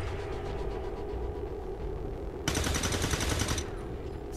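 Rapid automatic gunfire from the XCOM 2 video game bursts out loudly for about a second, rattling over a steady rumbling battle ambience.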